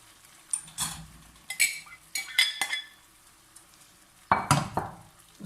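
Potato and noodle mixture poured into hot desi ghee in a pan, with bursts of clinking utensils and stirring over a soft sizzle, close and intermittent, no voices.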